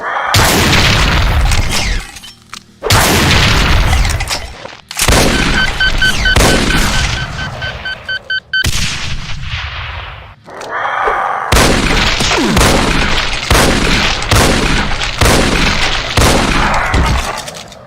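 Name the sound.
Revenant variant firing rockets in a Doom mod video game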